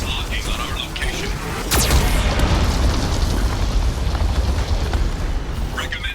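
Heavy booming blasts and rumbling from a Geth cannon in Mass Effect 2, continuous and loud, with a sharp crack partway through; game-style cannon fire rolling under faint voice.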